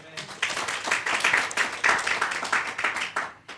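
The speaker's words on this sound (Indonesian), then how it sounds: "Tepuk tangan buat Tuhan." A church congregation at a women's service claps together in a brisk, steady rhythm of sharp hand claps, moderately loud and sustained for a few seconds.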